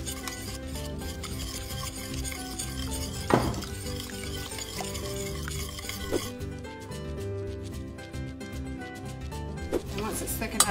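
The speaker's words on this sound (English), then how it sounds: "And you want to keep whisking" Polenta with Parmesan being whisked in a pan: a steady, close scraping and rubbing texture runs throughout, with a few brief clinks and a tonal background underneath.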